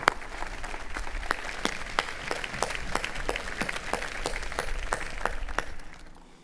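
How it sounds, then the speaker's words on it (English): Audience applause at the outdoor groundbreaking ceremony for UNC Kenan-Flagler's Steven D. Bell Hall, a steady wash of many hands clapping with sharper individual claps standing out, fading at the end. "So a round of applause for all the Kenan Flagler staff, faculty, staff, and students."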